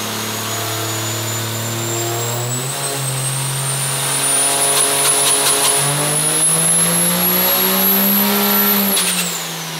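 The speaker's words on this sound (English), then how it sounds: "we've made a couple dyno pulls on Jimmy's truck" Diesel pickup truck with a bolt-on add-a-turbo kit revving hard on a dyno: a loud, steady engine drone climbs in pitch through a full pull alongside a rising high turbo whistle, then cuts off sharply near the end.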